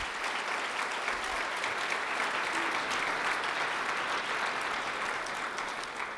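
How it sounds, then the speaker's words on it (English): An audience at a university athletics awards night applauds the athletic administration staff, even sustained clapping from a large room, heard at a moderate distance and holding steady throughout. "Let's give them a round of applause here"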